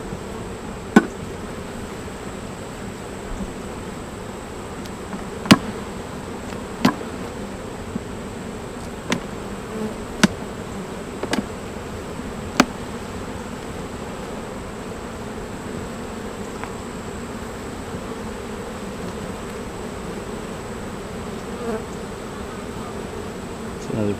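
Honey bees drone in a constant, close buzz throughout a routine hive inspection, with scattered sharp clicks and taps of frames and tools breaking through.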